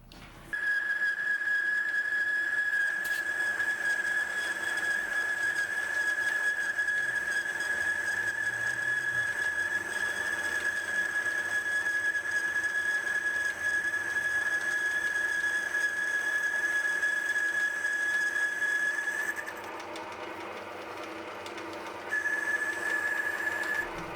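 A lathe boring bar cuts an internal thread in a collar, giving a steady, loud, high-pitched whistling tone over machine hum that drops out briefly near the end and then resumes.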